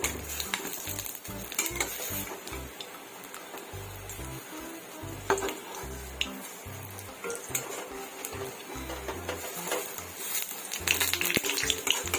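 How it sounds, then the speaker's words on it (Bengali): Lentil fritters fry in hot oil with a constant bright sizzle, while a metal spatula scrapes and clinks against the pan as they are turned, close up and without talk. "এবার বড়াগুলো উল্টে দেবো"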